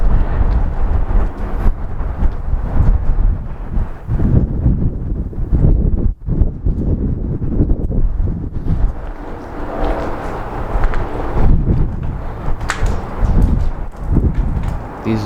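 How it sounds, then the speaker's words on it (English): Continuous gusty wind roars through a hallway of the abandoned Fisher Body Plant in Michigan, buffeting the microphone for several seconds, rising and falling in strength with no voices. "Over here there's an entire hallway and it's very windy."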